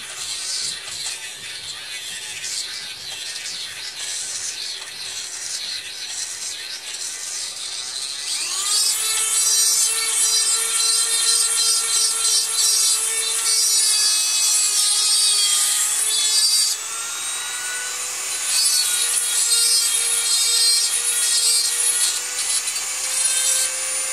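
Dremel rotary tool cleaning old solder out of a copper pipe fitting, a high-pitched whine with gritty rubbing that rises in pitch and loudness partway through and stays steady and close.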